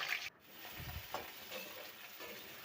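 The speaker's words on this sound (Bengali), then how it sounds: "আলু কষা করার জন্য আগে আমি আলুগুলোকে ভালো করে একটু ভেজে নিলাম" Potatoes fry in hot oil in a wok, giving a soft, steady sizzle with a few scraping stirs, faint and close, with no talking.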